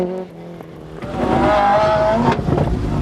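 Rally car at the 1998 Donegal International Rally, its tire badly worn, goes from an idling rumble to a loud, close engine roar with tire squeal as it pulls away hard.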